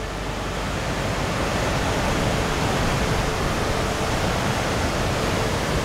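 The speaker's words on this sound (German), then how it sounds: "Der gelbe Fluss, eine Naturgewalt." China's Yellow River roars in a dense, unbroken wash of rushing water, loud and steady from start to finish with no voices.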